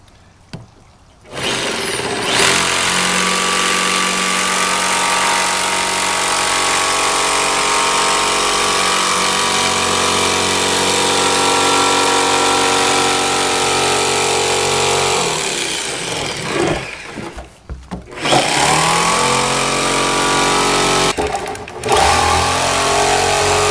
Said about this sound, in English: Now we're going to take our jigsaw and we're just going to follow this line until we cut the barrel in half.